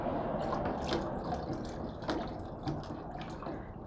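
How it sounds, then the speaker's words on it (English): Fiber reactive dye poured slowly close to the surface of a tub of fabric and water, a soft ongoing trickle with small drips and splashes over a low background rumble. "I'm going to slowly pour very close to the surface"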